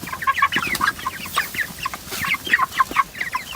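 A crowd of chickens clucks busily as a five-year-old child scatters feed along a row, with many short overlapping clucks and chirps close by over a low rustling background.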